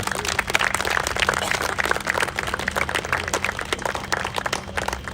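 An awards ceremony audience applauds the senior team with dense, steady clapping that holds at a moderate level for several seconds and has no talking over it.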